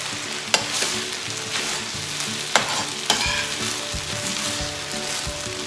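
Lao fried noodles (kua mee) sizzle loudly in a frying pan while a plastic utensil stirs and scrapes the bottom, adding a few sharp clacks over the constant close frying hiss.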